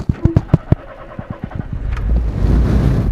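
A small Morris Motors car resembling a Mark V Cortina starts up: several rhythmic cranking turns of the starter, then the engine catches and settles into a rough, rising idle, loud and close.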